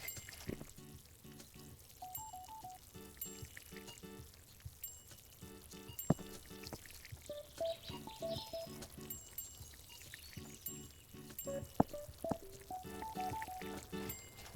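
In the game Plant Nursery Simulator, water pours onto potted plants as a soft continuous trickle, mixed with repeating short tonal game sounds and small clicks throughout.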